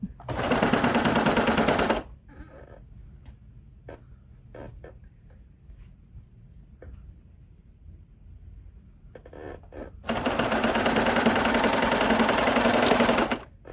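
A sewing machine stitches clothing being upcycled, running in two loud, fast, rattling bursts separated by a quiet stretch of small clicks and handling noises.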